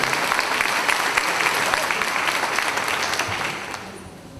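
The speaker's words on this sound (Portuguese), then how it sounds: "E uma forte salva de palmas também ao nosso palestrante." Audience applause for a lecturer at a Brazilian museum-institute forum talk, a dense steady clapping that fills the room and starts tapering off toward the end.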